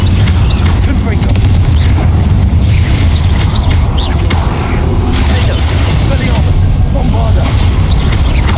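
Spell combat in Hogwarts Legacy with Confringo and Bombarda blasts: loud, continuous booming impacts and mechanical clatter fill the scene, rumbling without pause.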